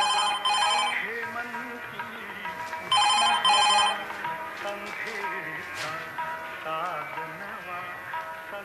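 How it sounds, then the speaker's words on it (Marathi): A telephone bell rings in two bursts of rapid trilling, loud and close, with people talking and singing around it on a theatre stage. "फोन घे बाबा."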